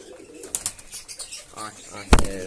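Pigeons coo around a feeding spot, among them a chocolate-coloured male, with soft murmuring calls through the clip and a louder burst near the end, while a voice talks nearby.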